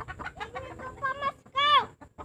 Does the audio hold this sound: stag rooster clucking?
yes